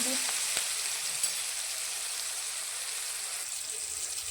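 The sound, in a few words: sautéing dal tempering in pan on low flame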